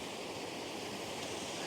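Water pours steadily at Melton Mill Branch Falls, a close, unbroken rushing roar with no speech over it.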